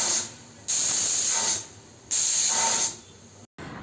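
Pressure cooker on a gas stove boiling salted peanuts in their shells, its whistle blasting steam in two long loud hissing bursts with short quiet gaps between, the second cut off at the end.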